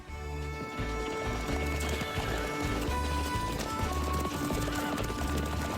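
Steady clip-clop of several horses' hooves walking, a regular rhythmic beat close by, with an occasional whinny over a busy background.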